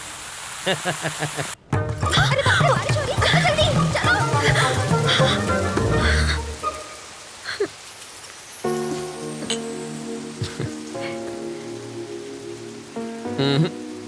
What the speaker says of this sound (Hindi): बरसात शुरू।